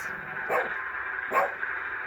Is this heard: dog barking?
yes